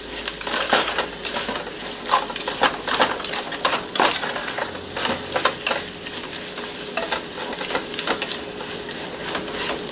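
Bacon jam stirred in a pot on the stove, repeated scraping and clinking spoon strokes in an irregular rhythm over a soft sizzle, close and continuous, no talking.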